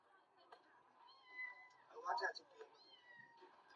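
Cats meow softly in a city setting, a few short plaintive calls rising over quiet background with faint voices talking nearby.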